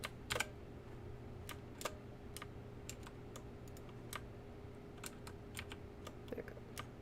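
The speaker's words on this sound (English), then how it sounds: "It's a new keyboard, so I'm kind of pressing multiple keys at the same time by accident." Clicky keystrokes on a new computer keyboard, sparse irregular taps and short bursts scattered over a quiet room hum, close and fairly faint, no voices.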